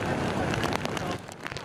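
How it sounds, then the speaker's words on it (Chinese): Heavy typhoon rain, strengthening as Typhoon Krathon nears the Hengchun Peninsula in southern Taiwan, falls in a dense, steady hiss that fills the brief moment without pause. "渐渐增强的大雨"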